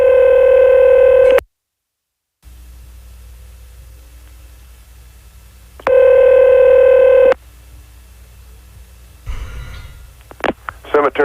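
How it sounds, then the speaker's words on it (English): A telephone plays dialing tones while placing a call on an overnight radio show: a loud burst of steady tones, a drop to silence, faint line hiss, another tone burst, then clicks and line noise as the call connects. "we're going to have to get him back on the phone again"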